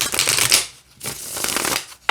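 A deck of cards is riffle-shuffled twice, each a quick crisp ripple lasting under a second, with a short pause between them, close and fairly loud.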